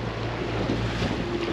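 Fishing boat motoring home through building ocean waves, a steady engine drone mixed with wind buffeting the microphone and the wash of water against the hull, loud and continuous without talk.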